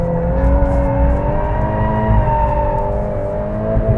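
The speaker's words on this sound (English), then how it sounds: "All right, let's try drift mode out." A 2022 Volkswagen Golf R in drift mode gives a loud, steady engine drone with layered harmonic tones, holding close and continuous across the short stretch with no talking.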